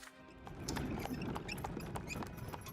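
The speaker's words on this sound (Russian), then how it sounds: "Да, лошадка пробежала." Horse hooves clip-clop quickly past in a hardcore playthrough of the video game The Life and Suffering of Sir Brante, with a brief run of soft, close hoofbeats and light knocks and no voices.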